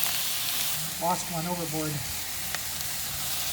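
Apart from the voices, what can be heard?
zucchini frying in pan for ratatouille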